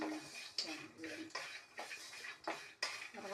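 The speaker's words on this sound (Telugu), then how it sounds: "బాదం పప్పు, వేరుశనగపప్పు ఈ 2 వేసాను, వేయించుకుంటాను" Almonds and peanuts are dry-roasted in a pan, producing repeated scraping and clinking of a utensil against metal in irregular strokes, close and moderately quiet, with faint talk in the background.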